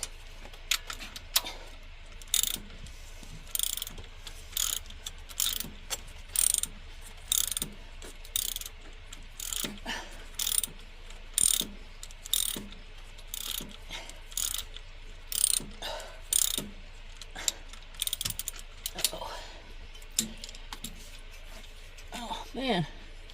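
A ratchet wrench clicks in bursts of rapid ticks with short pauses while an alternator is removed from a skoolie bus, close by and fairly quiet, against a low background hum.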